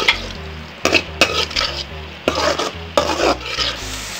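Murungai keerai poriyal with kooni podi being stirred in a pan, with repeated scraping strokes of a spoon against the pan over a steady sizzle, close and fairly loud, with no talking.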